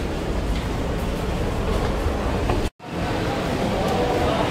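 Commuter train at Pasar Senen station in Jakarta, a steady broadband rumble of rolling rail cars that fills the whole clip with one brief dropout, no voices.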